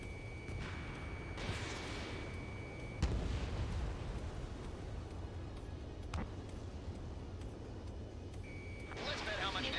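Ace Combat jet combat rumbles with deep booming explosions and a missile launch, dense and steady, with a lock-on tone sounding briefly and radio chatter running underneath.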